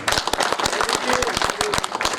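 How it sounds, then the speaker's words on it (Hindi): A crowd at a political rally claps in a dense, steady burst of applause, with a voice speaking over the clapping throughout. "तालियां भी बजा दिया करो।"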